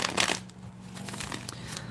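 A deck of tarot cards is shuffled by hand, with a brisk riffle burst at the start followed by softer sliding and tapping of cards, close by and unaccompanied by speech.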